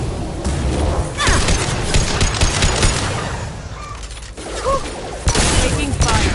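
Gunfire from a Mass Effect 2 combat firefight, with loud bursts of rapid shots, booms and clattering impacts coming in uneven waves, close and continuous.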